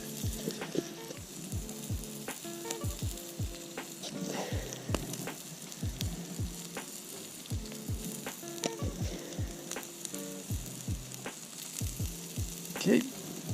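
Butterflied shrimp and steak sizzle steadily on a grill, a continuous close hiss of frying broken by frequent small pops and crackles throughout.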